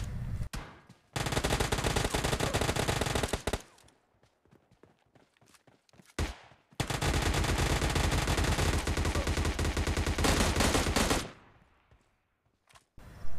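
Rapid submachine gun bursts in a video game firing in two long sustained volleys, loud and close, with brief pauses and a short reload gap between them.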